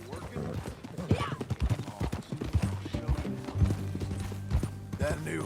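Horse hooves clip-clop in Red Dead Redemption 2, a steady gait mixed with occasional whinnies while characters talk over game music.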